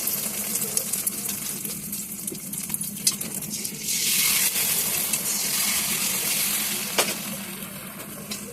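Hot oil sizzles and crackles steadily in a pan for a beaten-egg dish, with a louder hissing surge partway through and occasional sharp pops.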